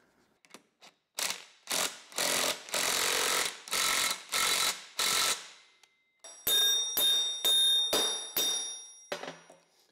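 A ratchet tightens a bolt with washers to pull an Allis Chalmers D17 tractor axle together, giving bursts of rapid clicking strokes, close and steady, with a brief pause midway.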